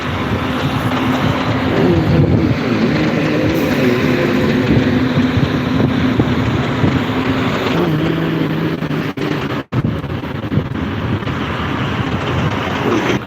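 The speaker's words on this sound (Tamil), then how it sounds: "பயங்கரமாக இருக்குது காற்று" Strong wind blasts across a phone microphone on a bypass road, making a continuous loud rumbling roar with gusts and no clear gaps.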